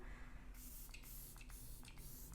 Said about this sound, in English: I'm just going to spray my face with the Glow Recipe Watermelon Glow